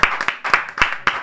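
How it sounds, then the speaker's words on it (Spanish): A few people clap in a short, sparse burst of applause during a live stream show. The claps are close and loud and come in an irregular rhythm. "Un aplauso."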